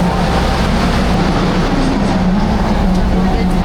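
Steady rumble inside a passenger train bound for Ayutthaya, Thailand, a constant low drone with rattling running through it, loud and close.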